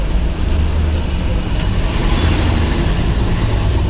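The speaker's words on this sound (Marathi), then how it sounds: "आता आम्ही बसमध्ये बसलोय कुर्ल्याला जायला" Constant low engine rumble and road noise heard from inside a moving city bus in Mumbai, steady throughout with no talking.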